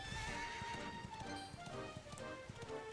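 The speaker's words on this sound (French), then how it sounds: "On va y aller en cheval, ça va plus vite." Horse hooves clip-clop at a steady gallop with a whinny while the horse is ridden across open ground in the video game Dragon Quest XI, set against a continuous game music backdrop, no talking.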